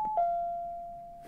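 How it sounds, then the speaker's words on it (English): A single two-tone doorbell chime rings out clearly and fades away slowly in an otherwise quiet room. "And you just heard the doorbell"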